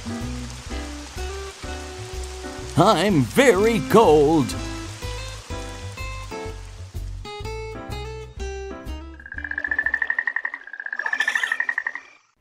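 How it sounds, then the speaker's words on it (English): Rain falls in an animated cartoon scene, a steady soft hiss running beneath background music and a character's speech before fading out partway through. "Oh, it's raining."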